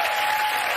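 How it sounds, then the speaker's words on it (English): Studio audience applause, a dense, loud, steady wash of clapping from a large crowd throughout. "please don't applaud that long"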